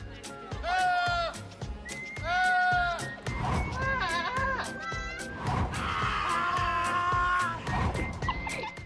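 A goat lets out several loud, drawn-out bleats that sound like a man yelling, repeated at close range with brief pauses between.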